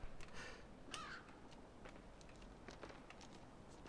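A crow caws a few times inside the dark, quiet world of the game Limbo, faint and sparse against a soft ambient hiss, with a couple of brief clicks.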